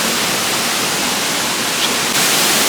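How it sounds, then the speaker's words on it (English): Horsetail Falls, a roadside waterfall in Oregon, roars as a loud, dense, continuous rush of falling water heard from close by, steady throughout, with no voices audible. "This is called Horsetail Falls."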